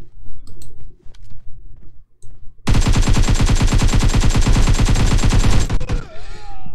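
Rapid automatic gunfire from the PUBG Mobile video game, a loud sustained burst of dense repeated shots lasting about three seconds after quieter scattered game sounds, then cutting off.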